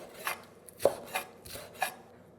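A knife slices through vegetables on a cutting board, cutting pieces on an angle for a spaghetti squash dish; four or five separate crisp chops land at an uneven pace, close and moderately loud, with no talking.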